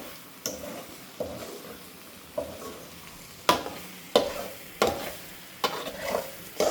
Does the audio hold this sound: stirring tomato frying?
yes